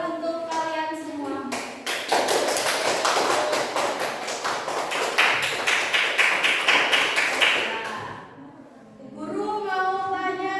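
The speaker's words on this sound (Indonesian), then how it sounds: "Tepuk tangan untuk kalian semua" A classroom of students claps together in a burst of sharp, fast claps that last about six seconds and then stop, with children's voices heard before and after the clapping.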